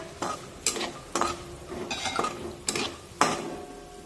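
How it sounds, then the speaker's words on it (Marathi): Raw peanuts and cashews stir-fried together in a pan for crispy puffed-rice chivda, heard as a run of distinct spatula scrapes and rattles over a faint sizzle, with no voices. "अर्धी वाटी कच्चे शेंगदाणे टाकूया हे सुद्धा या काजू काजूसोबत परतून घेऊया"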